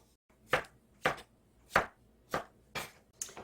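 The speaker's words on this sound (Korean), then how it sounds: "이렇게 해서 도마토도 썰어 놨습니다" A knife chops firm tomatoes on a cutting board in six distinct, evenly spaced strokes, each a crisp close thud with short decay, with quiet pauses between and no talking.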